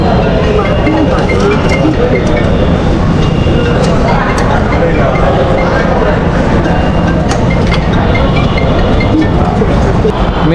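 A metro train at a station gives a loud, continuous rumble and roar, with scattered metallic clicks and rattles throughout. Crowd noise mixes in beneath it.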